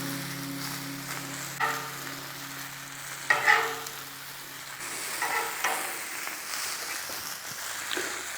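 Bacon sizzles steadily on a flat griddle with a soft continuous frying hiss, broken by a few scraping and clattering knocks as pieces are moved.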